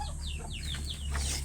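A few chickens cluck in quick, descending calls over a low steady hum, close and moderately loud.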